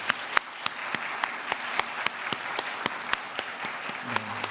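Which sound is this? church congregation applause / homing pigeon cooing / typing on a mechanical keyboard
church congregation applause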